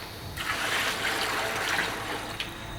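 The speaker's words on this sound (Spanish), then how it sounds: "Echamos el agua" Water poured into a pot to start a sugar syrup for traditional turrón, a steady broadband splashing pour that runs almost the whole length, fairly close and even, with no talk.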